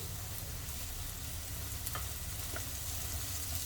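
Turnip cooks in a pan, and green garlic has just been added to it. A steady, dense sizzle of frying fills the whole stretch at an even level, with a couple of faint clicks and no talking.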